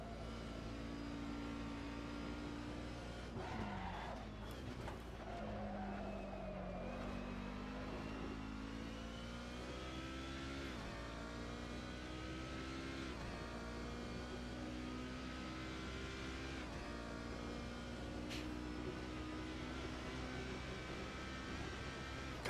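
A Ginetta G55 GT4 race car engine in Assetto Corsa at Oulton Park drones loudly and continuously, its pitch climbing and dropping with gear changes and revs, up close with no talking.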